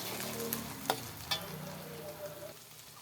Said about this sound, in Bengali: এখানে বাদামটাকে এবার ভালো করে চালাবো